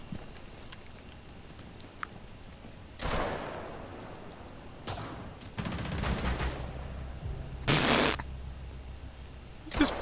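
Video game machine gun fire comes in a few separated bursts, each a short harsh rattle. The bursts are moderately loud over quiet background with faint clicks, and no speech is heard.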